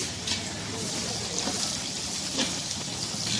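Green chillies stirred with onions in a pan for turkey biryani make a continuous soft sizzle and frying hiss, fairly even and near, with faint background voices.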